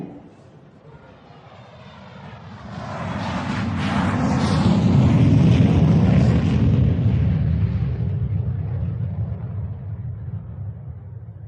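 A British Airways airliner bound for Dusseldorf takes off, its engine roar swelling from a low rumble to a loud, broad peak around the middle before slowly easing away.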